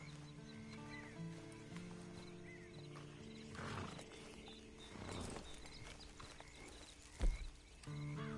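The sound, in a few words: horse hooves clip-clop, from a video game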